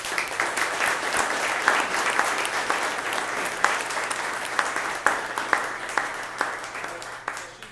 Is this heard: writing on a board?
no